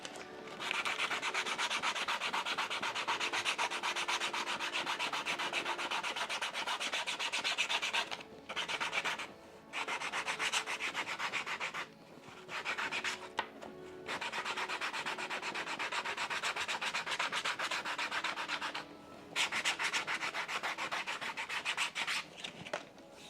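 Sandpaper rubbed back and forth by hand across a surface while making Edwardian spats: a steady, raspy scratching in long strokes with a few brief pauses, close and fairly loud, no voices.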